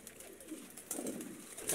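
A pigeon coos softly, a brief low throaty murmur rising and falling at moderate distance.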